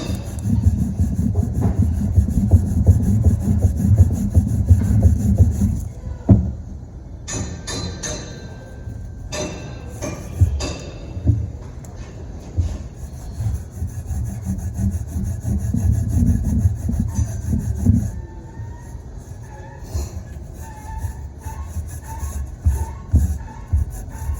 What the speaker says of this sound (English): But you should be able to get all of this old silicone off here without too much fuss.